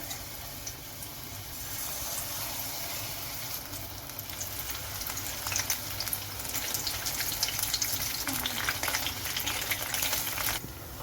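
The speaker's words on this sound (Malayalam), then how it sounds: "നമ്മുടെ സോയാബീനൊക്കെ വേണ്ട നന്നായിട്ടൊന്ന് ഫ്രൈ ആയി വന്നിട്ടുണ്ട്" Masala-coated soya beans fry in hot oil in a pan, a steady close sizzle with bubbling crackle that swells slightly louder midway and continues without pause.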